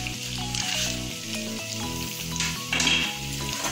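Three medium-sized onions fry in a pan for egg rice, giving a continuous sizzle that sits under melodic background music for the whole stretch.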